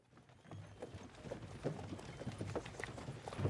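Horse hooves clip-clopping at a walk in the medieval video game Kingdom Come: Deliverance 2, a soft irregular series of hoof falls that grows slightly louder, no talk over it.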